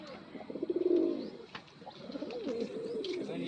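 Pigeons cooing softly at a distance, a few rounded throaty coos among faint chirps and light background noise.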